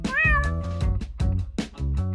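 A cat meows repeatedly at close range, several drawn-out and rising-falling cries in quick succession, loud and clear with no talking.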